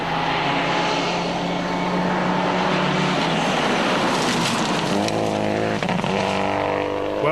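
Emma Gilmour's production-class rally car, its clutch freshly repaired, running flat out on a New Zealand rally stage: a loud, continuous engine roar held steady throughout, with a brief dip near the end.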